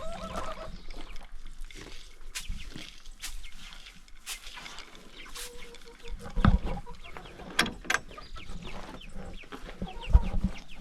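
Several chickens cluck and murmur close by in a coop, with scattered short calls and a few sharper clatters and bumps, no talking.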